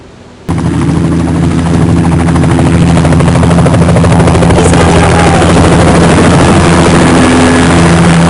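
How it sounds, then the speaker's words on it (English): A military helicopter lifts off in a video game cutscene, its rotor and engine roar bursting in after a brief quiet start and then holding loud and steady, close and unbroken, with no talking. "That's a military chopper they took off in."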